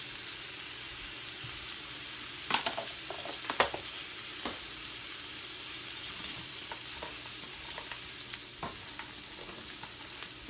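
Onions and green peppers sizzle steadily in a pan, a soft continuous fry with a few sharper crackles and stirring clicks, fairly faint and close with no talking.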